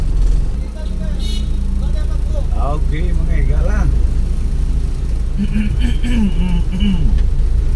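Road traffic on Quezon Rojas Avenue, with cars and buses rumbling past in a steady low drone and engines swelling as vehicles go by, while someone talks over it nearby.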